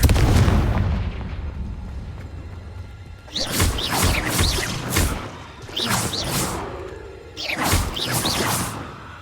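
Confringo fire spells blasting in Hogwarts Legacy, several loud whooshing bursts and booming impacts in quick succession, close and forceful, after a low rumbling stretch.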